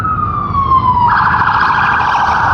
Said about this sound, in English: That's the second siren right there.